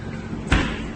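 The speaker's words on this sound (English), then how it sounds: "and close the door." A refrigerator door fitted with an AI vending kit swings shut with a single short, close thud amid a steady background hum.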